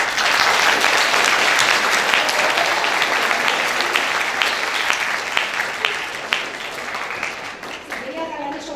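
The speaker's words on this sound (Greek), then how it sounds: "θέλω ένα δυνατό χειροκρότημα στην κυρία Γαλανή" Loud, sustained audience applause at a school graduation ceremony, dense clapping from a large crowd that stays strong for most of its length before gradually thinning into scattered claps and fading.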